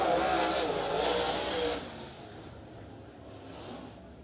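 Dirt track race cars in a heat race at Stockton Dirt Track, a loud roaring engine drone that fades as they move away through the corners, with a distant announcer voice.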